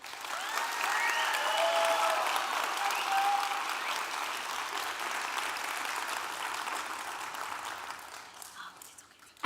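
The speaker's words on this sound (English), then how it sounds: "Please give Presley another round of applause." An audience applauds after a student speaker's talk, a sustained, moderately loud wash of many hands clapping that swells early and then tapers gradually over several seconds.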